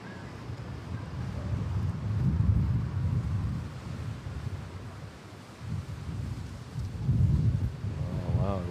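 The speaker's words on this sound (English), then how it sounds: "Oh, wow, the wind's getting strong." Strong gusting wind at an airport buffets the microphone in a loud, rumbling roar that surges and eases in waves throughout.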